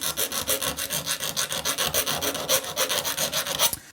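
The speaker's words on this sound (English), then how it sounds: "I'm gonna move my guitar aside, and I'm just gonna start filing." A metal file rasps steadily back and forth on a Fender mute plate for a guitar, in quick, even strokes close to the listener, with no voices.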